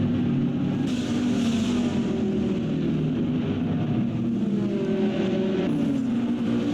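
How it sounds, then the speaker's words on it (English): Lamborghini race cars roar around the Willow Springs track in a GT race, a loud continuous engine drone with shifting pitch as the cars pass, steady throughout with no talk. "Those Lamborghinis are so loud on this track."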